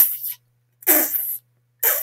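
A human voice mimics blood squirting into an artery as heard through a stethoscope, like water spurting from a hose: three short, breathy hissing spurts separated by silence, the middle one longest.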